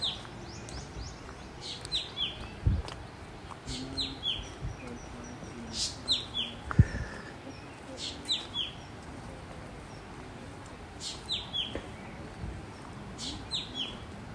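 Birds call repeatedly on the Daman-e-Koh walking trail in Islamabad, bright chirps and short whistles in scattered bursts, moderately near, over a soft outdoor background with occasional footsteps or handling knocks.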